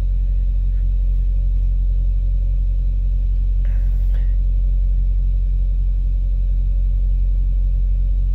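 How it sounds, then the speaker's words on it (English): Snow plows with a tow-behind trailer, one trailer tire flat, after a nor'easter: a loud, constant low engine rumble dominates, with a brief faint clatter partway through and no speech. "Plows over there, I think one of them has a flat tire on his tow behind trailer."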